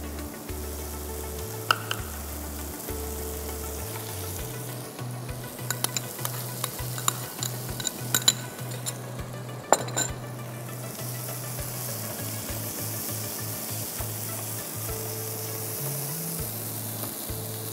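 Small shrimp sizzle and fry in a pan while being stirred, with steady frying hiss throughout and repeated scraping stir strokes, close and fairly loud, with no talking.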